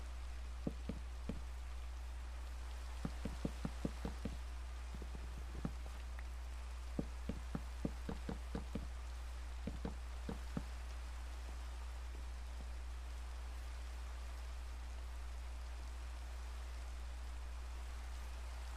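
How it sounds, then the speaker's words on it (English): Steady, faint rain hiss in the video game Minecraft, with scattered soft drip ticks on surfaces throughout and no voices. "The rain never stops."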